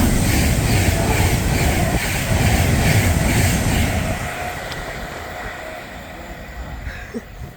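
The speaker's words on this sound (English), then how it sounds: "390-005 passing by from Manchester Piccadilly to London Euston with an amazing tone" A Class 390 electric train, 390-005, runs through Nuneaton from Manchester Piccadilly to London Euston. It comes as a loud, close roar of wheels and carriages that fades over the last few seconds into a lighter rumble, with no voices.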